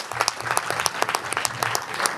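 An indoor audience at a meeting of online TV outlets and government claps steadily, a dense patter of many hands with a murmur of voices underneath, continuous throughout.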